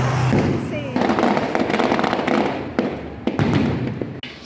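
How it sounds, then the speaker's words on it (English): Fireworks burst repeatedly in Sri Lanka, loud cracking explosions and crackling rumble packed close together with a few sharp separate bangs, fairly near and dense throughout. "The amount of fireworks here is insane."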